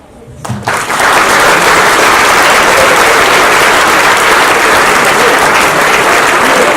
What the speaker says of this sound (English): A round of applause for our host, Simon, ladies and gentlemen